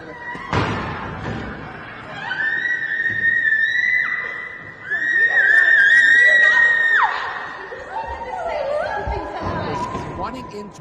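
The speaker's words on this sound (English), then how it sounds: "That was her screaming, by the way, on the ground" A woman screams repeatedly in a governor's office, captured on a played-back recording: long, high, piercing shrieks rise and fall over several seconds amid a crowd's background chatter and thuds.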